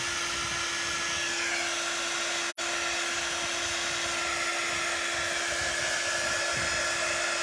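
A hair dryer blowing on wet paint, a steady, loud whir with a constant hum, briefly cut off for an instant midway before running on unchanged, with no voices.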